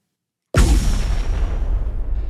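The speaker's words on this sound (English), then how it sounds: "You hear outside a series of explosions." Sudden loud blast in the streets, then a dense, continuous rumble of further explosions and crackling, sustained and close with no gaps.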